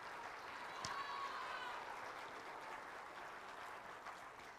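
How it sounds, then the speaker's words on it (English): Audience applause at the 2025 Greene County Music Festival, hosted at Waynesburg High School: a faint, steady wash of clapping from a crowd in a large hall, sustained evenly and gradually thinning toward the end. "Let's give them some applause, please."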